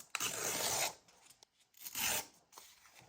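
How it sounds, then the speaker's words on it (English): Paper is torn out along a tearing ruler for a vintage junk journal, two long close rasping tears separated by a short pause, with no talk. "So I'll take my tearing ruler and I'll tear her out."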